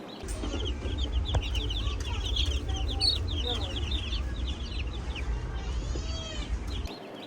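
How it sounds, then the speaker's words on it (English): Five Cornish Cross chicks cheeping in a busy, continuous chorus of high, rapid peeps over a steady low hum, lasting throughout. "But these are 5 Cornish Cross chicks."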